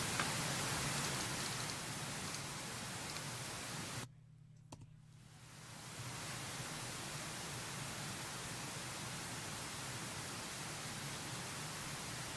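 Pink noise played at a low level for sound system tuning, a steady broadband hiss like soft rain, cutting out briefly near the middle before resuming, with no voices.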